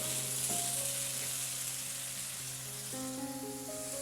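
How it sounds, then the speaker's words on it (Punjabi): Tomato paste and onions sizzle gently in a pan while being cooked down for a chana dal tadka, a continuous low frying hiss with steady tones playing faintly underneath. "ਇਹਨਾਂ ਟਮਾਟਰਾਂ ਨੂੰ ਨਾ ਪਿਆਜ਼ ਦੇ ਨਾਲ ਆਪਾਂ ਥੋੜੀ ਦੇਰ ਭੁੰਨ ਲਵਾਂਗੇ"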